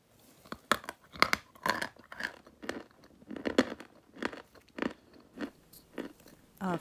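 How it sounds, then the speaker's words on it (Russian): A series of dull, crisp crunches from repeated bites into a brittle piece of chalk, close up and fairly loud, about a dozen in an uneven rhythm with no voices. "Откусывается с глухим хрустом он."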